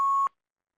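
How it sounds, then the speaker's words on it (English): A phone gives a single short electronic beep, clear and close, that cuts off abruptly and leaves silence. "There's some kind of beep happening on my phone."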